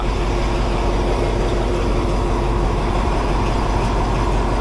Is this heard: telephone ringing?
no